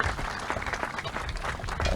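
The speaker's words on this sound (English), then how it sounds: "let's give them a great big round of applause from our Cities of Dunedin's pipe band" Audience at a Purple Heart ceremony applauding a city pipe band, a brief burst of brisk, fairly dense clapping heard from within the crowd.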